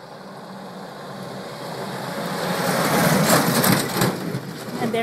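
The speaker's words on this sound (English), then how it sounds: "There you go, driving through the bush." A vehicle pushes through dense bush, with a rising crunching and crashing of branches and brush that grows louder and closer over about five seconds.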